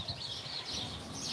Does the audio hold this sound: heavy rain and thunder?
no